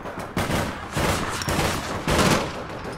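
Bursts of rapid gunfire from the online shooter game APB Reloaded, loud overlapping volleys coming in several waves over a few seconds with no voices.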